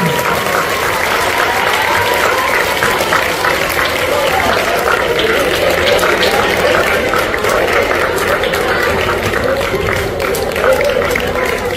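Steady, dense applause from a crowd at a prize-giving during an Eid-e-Milad speech competition in Bhusawal, a continuous loud wash of clapping that holds for the whole stretch.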